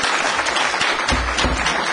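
An audience applauds at a county board of supervisors meeting, a dense, loud burst of clapping filling the whole moment, with no talk over it.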